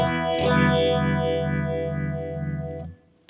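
A sustained guitar chord through a Kemper Profiler phaser modeled on a Phase 90 or Small Stone, with a slow, regular sweeping whoosh cycling several times. The chord is cut off sharply near the end and played alone, without talk.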